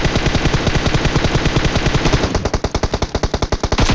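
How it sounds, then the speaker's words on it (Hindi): Automatic rifle fire in the mobile shooter PUBG Mobile, a loud, close, continuous rapid burst that breaks into distinct evenly spaced shots toward the end, with no talk. "यहाँ पे मैंने थोड़ा बहुत फायर किया था कि वो खिड़की से पीछे हट जाए"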